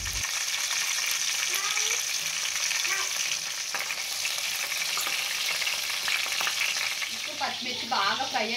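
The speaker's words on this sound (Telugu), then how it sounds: "ఆయిల్ కొంచెం హీట్ అయిన తర్వాత పచ్చిమిర్చిని వేసేసుకుందాము." Green chillies frying in hot oil for a fish curry give a steady close sizzle with light stirring scrapes, and faint voices or other sounds break in near the end.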